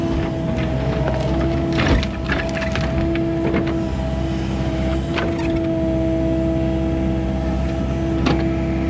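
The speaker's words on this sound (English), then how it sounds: "my neighbor has a heat pump on their house, and the compressor fan is, well, let's just say it needs to be fixed" A faulty heat pump compressor fan on a neighboring house hums steadily with a constant tonal drone and low rumble, moderately distant, with occasional faint outdoor knocks over the top.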